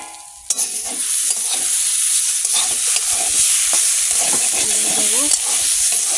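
Eggplant and potato curry fries in a pan with a steady, loud sizzle from the start, broken by stirring scrapes and the clink of a utensil against the pan.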